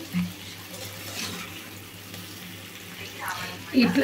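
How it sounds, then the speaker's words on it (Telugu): Baby potatoes fry and get stirred in a pan for a potato fry, giving a faint steady sizzle with light scraping and a few clatters near the end. "ఇట్లా కలుపుతానైతే వేయించుకోవాలండి"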